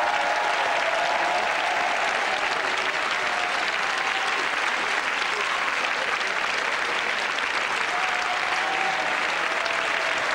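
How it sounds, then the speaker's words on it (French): Sustained applause from a studio audience on a French television game show, steady and dense throughout with no talk over it. "après avoir recueilli les applaudissements qui vous permettent de tester votre popularité"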